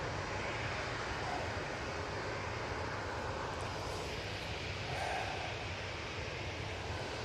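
Aer Lingus airliner arriving at Manchester Airport, a steady broadband engine roar that holds at a distant, even level throughout with a faint wind-like wash and no voices.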